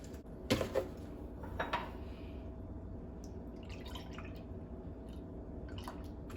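Almond milk poured into a measuring cup, a couple of short liquid splashes and drips early on, then a faint trickle over a low steady background hum in a kitchen.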